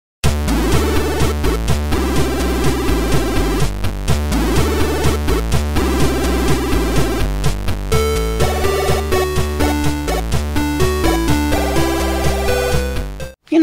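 Chiptune music built from 8-bit sound-chip samples and basic waveforms, with a steady bass and drum pattern under bright bleepy lead arpeggios and melodies, played continuously and loud before stopping abruptly.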